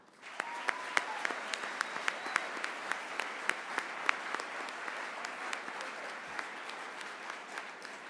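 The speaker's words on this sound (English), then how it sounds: "Please join me in a round of applause to show our appreciation to all those who helped make tonight possible." Applause at a state FFA convention general session, fairly faint and distant, a steady patter of clapping with a few sharp individual claps standing out, sustained throughout.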